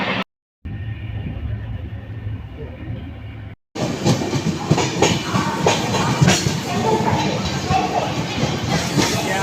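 The Nagercoil Express rumbles along the tracks with rhythmic clattering, heard faintly at first, then loud and close after a brief cutout.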